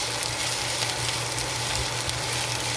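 Garlic frying until browned for beef pepper fried rice, a steady, dense sizzle that stays close and constant throughout, with no talk.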